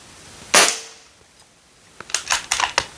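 An airgun fired through a 3D printed suppressor gives one sharp close crack, followed later by a quick series of lighter metallic clicks and snaps.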